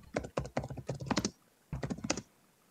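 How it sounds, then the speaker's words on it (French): Loud, hard typing on a computer keyboard, two dense bursts of rapid clacking keystrokes separated by a short pause, close and with no voices over it. "Qui c'est qui tape son clavier avec un marteau?"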